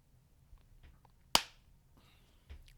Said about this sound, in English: did you need to clap for your audio there?